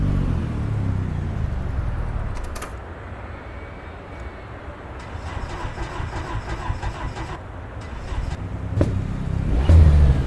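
A steady car engine in Assetto Corsa Evo drones and revs at a constant level, with a brief higher whine partway through and no voices.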